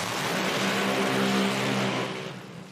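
The Bushwhacker nitro drag racing car's engine roars at full, steady volume close by with a deep, rough drone that holds for a couple of seconds, then begins to fade as the revs fall off.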